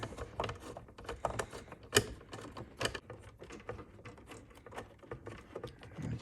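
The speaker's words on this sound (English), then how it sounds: "So I'm just going to unscrew that." Screws being unscrewed from a Golabs i200 portable power station during a teardown, a close stream of small ticking, ratcheting clicks at an uneven rhythm with a few sharper knocks.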